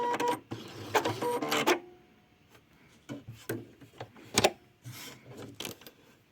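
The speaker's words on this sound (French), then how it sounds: "Je viens de tester le point élastique, enfin un des points élastiques de la machine à coudre." A home sewing machine tests one of its elastic stitches, a busy mechanical rattle of needle strokes running for a moment up close, followed by scattered clicks and handling taps.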